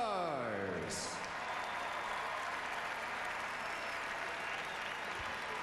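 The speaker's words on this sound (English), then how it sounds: "Ladies and gentlemen, a round of applause for the 2003 NBA" A packed arena crowd at the 2003 NBA All-Star Game claps for the All-Stars, a dense, even roar of applause that carries on steadily after a brief announcer's voice at the start.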